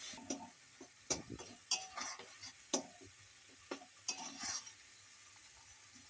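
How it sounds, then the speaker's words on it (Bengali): Mustard and cumin paste being stirred in a cooking pan, quiet and close, with irregular scraping taps of the spoon against the pan over a faint low sizzle. "দিয়ে কিছুক্ষণ নাড়াচাড়া করে নেবো"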